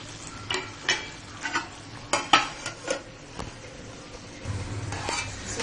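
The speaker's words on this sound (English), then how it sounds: "Just mix it and cook for 5 minutes." Okra and chicken cooking in a pan are stirred with a utensil, giving a run of light taps and scrapes over a soft, steady sizzle.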